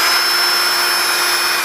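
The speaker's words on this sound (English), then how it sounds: "drill out the inside a little bit" Power drill spinning a bit to bore out the inside of a hose, a steady high-pitched whine held loud and constant throughout with no talk.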